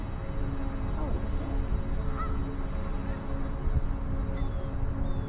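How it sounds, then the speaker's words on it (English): A large flock of geese honks continuously at close range, with dense overlapping calls over a steady outdoor wash at a nature conservancy. "Look at all the freaking geese."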